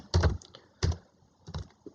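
Close bursts of computer keyboard typing, three quick clusters of keystrokes separated by short pauses, with no talking.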